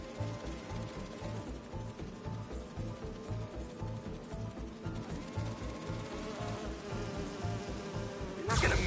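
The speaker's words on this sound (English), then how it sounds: "You're not gonna mess with my bees?" Steady insect buzzing from a swarm of bees in the game Spider-Man 2, a continuous droning hum with a layer of music beneath it, rising slightly louder at the very end.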